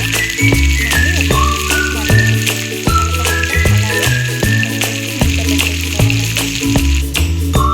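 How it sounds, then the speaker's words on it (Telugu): Masala-stuffed capsicum sizzling in a pan of cooked-down tomato gravy, a loud continuous frying hiss with bubbling crackle, alongside a melodic background tune. "ఇప్పుడు మసాలా నింపుకొని పెట్టుకున్న క్యాప్సికమ్ వేసుకుంటున్నాను"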